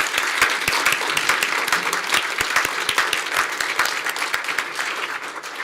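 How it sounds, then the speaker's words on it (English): An audience at a forum gives a round of applause, close and lively, with many distinct claps forming an even burst that tapers slightly toward the end. "Let's give both of them a big round of applause."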